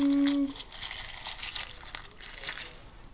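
Milk pours and splashes steadily into a bowl of Coco Pops White Chocolate cereal with soft crinkling and trickling, following a brief tonal beep at the start.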